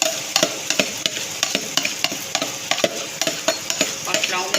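A spoon stirring beef pulao mixture of spices, stock and beef in a hot pot, rhythmic scraping strokes roughly every half second over a constant sizzle, close and loud with no voices.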